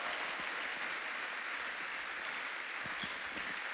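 A church congregation applauding together, a steady dense wash of many hands clapping at moderate distance, continuous from start to finish with no voices standing out.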